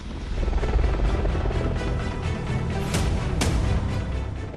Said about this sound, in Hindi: दुनिया का सबसे आधुनिक अटैक हेलीकॉप्टर।